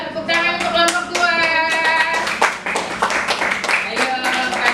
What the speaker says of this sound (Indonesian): yuk tepuk tangan untuk kelompok 2